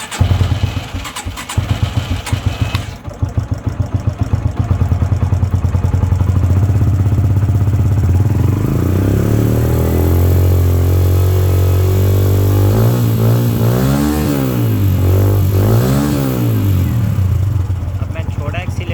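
A motorcycle engine, started with a homemade 18650 lithium-ion 12-volt 3S 10P battery pack, cranks, catches and then revs up and down in loud rising and falling surges while someone talks over it.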